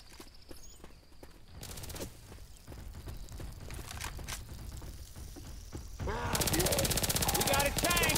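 Video game gunfire in Left 4 Dead 2 with fire bullets, bursts of repeated shots and clattering action sounds, building into a denser, louder stretch of shooting toward the end.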